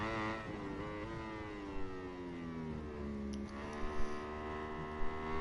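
A Yamaha MotoGP motorcycle in MotoGP 21 held in fourth gear at full throttle, its engine giving a steady, high-pitched whine that holds and slowly rises in pitch under faint background noise.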